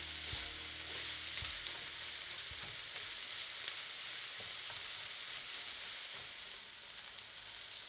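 Capsicum and onions with masala sautéing in a pan for chicken fajitas, a steady close sizzle with stirring scrapes throughout, loud and continuous with no talk.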